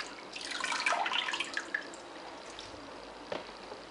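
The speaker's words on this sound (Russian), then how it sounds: "Откидываем ее на дуршлаг, чтобы она очень хорошо стекла." Boiled chanterelle mushrooms drain in a colander, with water trickling and dripping in a light, close patter that fades to scattered drips.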